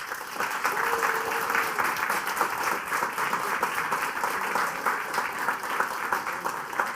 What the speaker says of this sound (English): Firstly, a big, huge round of applause for Jay.